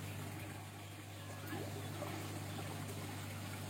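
Water runs steadily into an aquaponic grow bed planted with ginger, a soft continuous trickle and wash over a low pump hum, with no talking.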